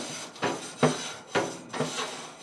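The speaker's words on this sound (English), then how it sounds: "We're gonna take this grill brush here and just scrape" A grill brush scrapes a Ninja FlexFlame grill grate in four or five brisk, rasping strokes, close and fairly quiet, with short pauses between each pass.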